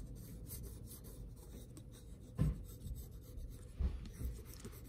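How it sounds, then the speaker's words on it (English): Pencil scribbling on paper while sketching a polar bear: close, soft, continuous scratchy rubbing strokes with a couple of firmer taps partway through, no voices. "I'm gonna start scribbling without really worrying if it looks like a polar bear yet."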